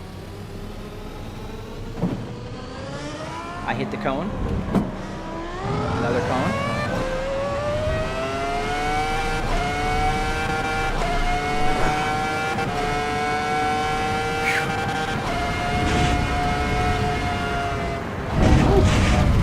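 Ferrari Formula 1 car engine in the Assetto Corsa Evo racing game, a high-pitched whine rising and falling through gear changes as the car accelerates, with someone talking over it.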